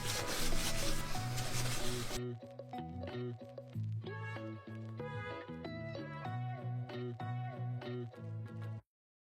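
Firm rubbing strokes clean dirt off a surface, a close rhythmic scrubbing heard alongside steady tonal music, stopping abruptly near the end.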